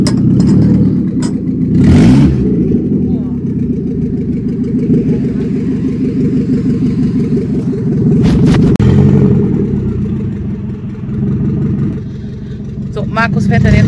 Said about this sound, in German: Markus fährt dann jetzt mal unser neues Cabrio an der Sandzelle auf.